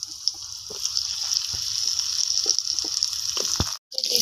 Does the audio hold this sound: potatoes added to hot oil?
yes